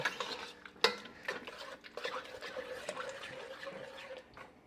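A spoon stirs finely chopped crystallized ginger into a peach bourbon jam mixture in a pot, giving soft scraping and clinking strokes with one sharper knock near the start, fairly close and with no talking.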